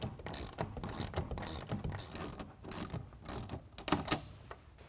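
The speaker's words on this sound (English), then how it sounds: "take a 1/2 inch wrench or ratchet and tighten these down" Ratchet tightening nylock nuts on tonneau cover rails of a 2020 Jeep Gladiator, rapid close clicking in repeated strokes with brief pauses between them.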